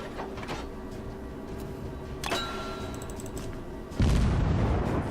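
Naval guns booming from warships in World of Warships, a few sharp reports spaced across the moment, the last one heavy and loud, with no voice over it.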